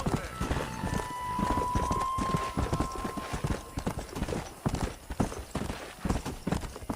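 Horse hooves clip-clop steadily as riders head to a cow pen in Red Dead Redemption, a quick, close rhythm of hoofbeats with a brief sustained tone early on and faint talk in the background.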